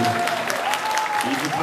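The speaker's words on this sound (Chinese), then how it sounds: "掌声鼓励鼓励！" An audience at a summer cosplay contest bursts into dense, sustained applause, with a voice and a faint tone over the clapping, all at a fairly loud level for a brief moment.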